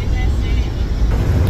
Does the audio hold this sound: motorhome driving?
yes